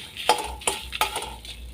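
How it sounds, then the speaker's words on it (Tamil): Dried red chillies and asafoetida being roasted in a pan for curry leaf podi, with a soft sizzle and a few sharp scrapes of a spoon stirring against the metal at a steady pace, close by. "இப்போது வத்தலை வறுத்து எடுத்துக்கலாம்."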